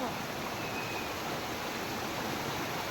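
Rain-swollen water rushing forcefully outdoors during a downpour, a dense, steady roar that fills the whole clip with no pauses.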